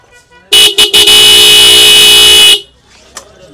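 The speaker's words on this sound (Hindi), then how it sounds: "ये इसकी हॉर्न की साउंड है" A Honda CB200X motorcycle horn blares loudly up close: two short toots, then one long sustained honk, followed by quiet.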